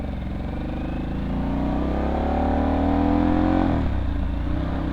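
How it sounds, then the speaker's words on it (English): Wind rush and engine roar while riding a Harley-Davidson Pan America with a budget windshield, a loud steady buffeting blast over the running motorcycle that swells, then drops off abruptly near the end. "I am getting a little bit more wind buffeting at the top of my helmet"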